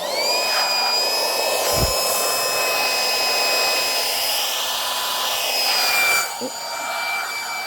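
An electric pump inflates an ultralight camping sleep pad, droning as a loud, steady whine that runs for several seconds with a brief thump midway and a shift in pitch near the end.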